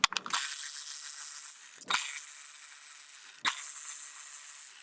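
Ratchet spinning out the 10mm coil pack bolts on a Kia Forte valve cover from the 2012 to 2016 generation, a close, fast ratcheting buzz in three bursts broken by short pauses, with no talking.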